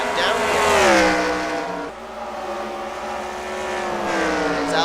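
Stock race cars lap a track in a racing video game, a steady engine whine rising and falling in pitch as cars pass, with a commentator's voice heard faintly beneath.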